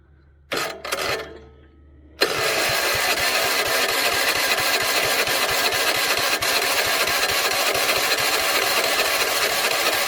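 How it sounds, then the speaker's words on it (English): A homemade log splitter's engine is cranked over with its starter: after a short burst and a brief pause, a loud, steady rapid cranking churn runs on close by without let-up, with no voices. "I'm just going to hit the starter and roll it over and see if this thing does anything."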